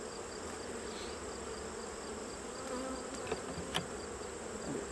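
Honey bees buzz steadily throughout an overcrowded hive in fall, a dense, even drone close by with a few faint clicks and knocks near the end and no talking.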